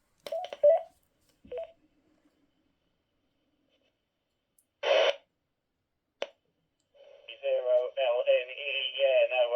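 Two-way radio transmission over a Leicestershire amateur repeater ending in a short electronic roger bleep tone, with brief clicks and squelch bursts. Tonal warbling chirps follow near the end.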